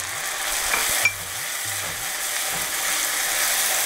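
Chopped onions frying in a pan just before tomato goes in, a steady close sizzle with a brief scrape of stirring near the start and low background murmur.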